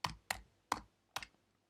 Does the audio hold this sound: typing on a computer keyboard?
yes